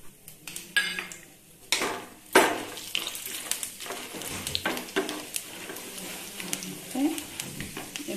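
Mustard seeds, urad dal and chana dal drop into hot oil for puliyodharai tempering, giving a crackling sizzle mixed with clinks and scrapes of a metal pan and spoon, close and busy, with bursts of popping.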